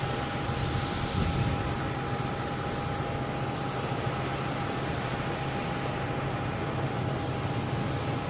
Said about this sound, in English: You're also got a Delta taking off, heading to LaGuardia, E-175